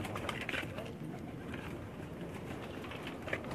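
Pigeons coo softly on a rooftop loft in Pakistan, faint repeated calls in a low, noisy background with people talking quietly nearby.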